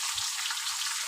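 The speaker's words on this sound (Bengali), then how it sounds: "তো মাছটা আমার ভাজা হয়ে গেছে, এখন আমি মাছটা তুলে নিচ্ছি।" Fish fries in hot oil with a dense, continuous crackling sizzle, close and steady throughout.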